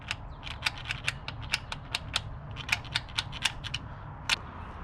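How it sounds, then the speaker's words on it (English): A socket wrench ratcheting while torque is checked on bolts of an MK3 Supra: a rapid clicking pawl in short uneven bursts, close and crisp over a low background rumble, with no talk. "let's start torquing everything down, or let's check the torque of everything"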